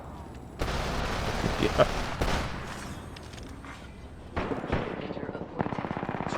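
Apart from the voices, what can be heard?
gunfire in the video game Apex Legends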